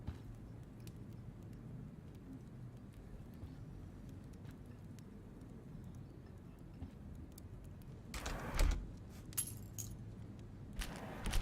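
Keys jangle in Life Is Strange, a short metallic rattle near the end after a long quiet stretch of faint room tone. One or two smaller clinks follow it.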